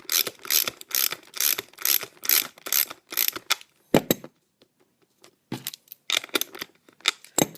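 A hand ratchet rapidly clicks while tightening the truck cushions on a roller skate, giving a close, loud run of rhythmic pawl clicks, a brief pause, then another burst of clicking.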